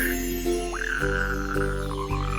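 Frogs croak in low, throaty bursts with a rising chirpy call layered over a steady hum, close and continuous.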